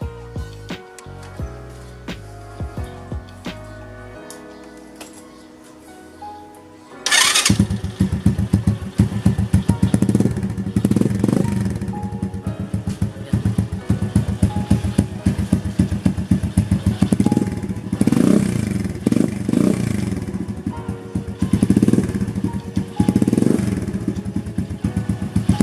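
Motorcycle engine with a DBS exhaust pipe and no silencer starts after a few seconds of quieter background, then runs loud and raspy up close with uneven throttle blips and a steady clattering idle.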